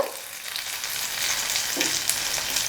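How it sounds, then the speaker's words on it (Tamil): Sliced onions fry and brown in a pan for a South Indian onion chutney, giving a steady close hiss and crackle of sizzling oil with a faint scrape or two, no voices. "இப்போ பாருங்கள், வெங்காயம் வந்து நல்லா வதங்கி ப்ரௌன் ஆக ஆரம்பிச்சிருக்கு"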